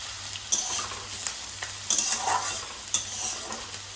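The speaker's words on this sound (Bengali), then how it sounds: "পেঁয়াজটা একটু লাল লাল করে ভেজে নেব" Chopped onions sizzle steadily in a pan for a chicken curry, with several distinct scraping stirs of a spatula breaking through the frying hiss, close and clear with no talking.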